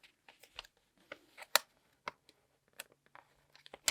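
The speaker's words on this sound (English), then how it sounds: "I'm just going to use scissors because I think that's going to be a little bit easier on this portion." Scissors trim the edge of a paper sticker in a planner, giving a series of close, crisp snips at an uneven pace, with faint paper rustling between the cuts.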